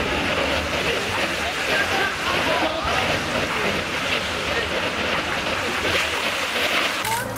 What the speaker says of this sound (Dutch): Het is een mooi riviertje.